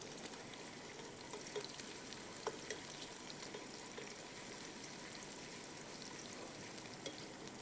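Onions browning in a pan produce a soft, continuous sizzle and crackle, steady and quiet with no voices over it.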